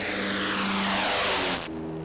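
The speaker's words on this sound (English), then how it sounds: "The Martin Mars water bomber soars." A Martin Mars water bomber flies past with a loud, steady piston-propeller drone that swells and then abruptly drops away near the end, heard alone without talk.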